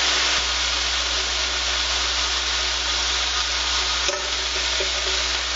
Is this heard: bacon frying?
yes